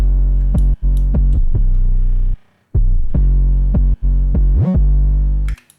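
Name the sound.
808 drum loop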